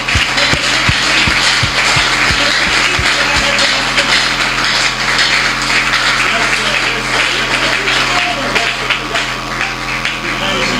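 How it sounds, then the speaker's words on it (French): A church congregation at a ministers' convention breaks into loud, sustained applause and cheering, a dense wash of clapping with a few heavy rhythmic thumps at the start and voices mixed in throughout. "acclame très fort le Seigneur Jésus-Christ."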